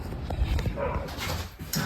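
A dog on a walk gives a couple of short, sharp barks and whimpers, close by and brief, over low background noise.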